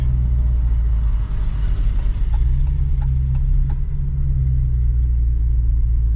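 A deep, steady engine rumble from a Dodge Hellcat, low and continuous, with a few faint clicks on top.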